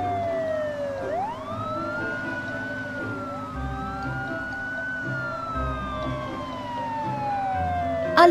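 A police car siren in a children's cartoon wails up and down in long sweeping glides, loud and continuous, over a low rumble of vehicle engines.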